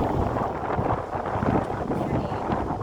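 Wind buffeting a microphone on a boat at sea, a steady rough rush with gusty rumble throughout the short stretch, close and moderately loud with no voices.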